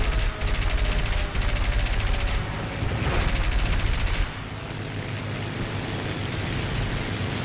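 Sustained automatic gunfire in the War Thunder combat game, a dense, loud roaring burst of rapid shots that cuts off abruptly midway, leaving a lower rumbling background.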